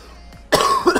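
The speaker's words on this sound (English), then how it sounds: "Sorry for coughing, guys." A single sharp cough bursts out abruptly halfway through, followed by a rougher throaty follow-up, close to the microphone against a quiet background hum, with someone playing a mobile plane-merging game.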